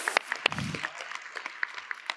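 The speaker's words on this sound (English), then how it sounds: "And now I want one final huge round of applause for Ange" Scattered audience applause at a talk event, a sparse run of individual hand claps, some close and sharp, fading into a lighter irregular patter, with a brief low murmur early on.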